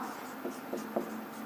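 A pen scratches across paper while writing out a maths solution, a short run of close, soft scribbling strokes with a few slightly stronger marks.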